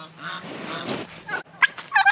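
Turkeys call nearby in a series of loud, honking gobbles and squawks, irregular and overlapping, with short pauses between bursts.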